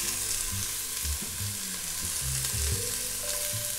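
Celery, carrot and other vegetables sizzle and fry in a pot with a bay leaf as the base for a clear fish broth, a steady close hiss with intermittent low clatter of stirring, no talk.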